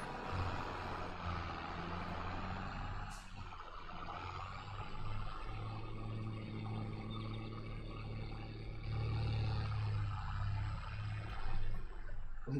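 Snow plow truck clearing snow in Farming Simulator 22, a low continuous engine rumble with a scraping undertone, steady throughout with a slight swell near the end and no talk.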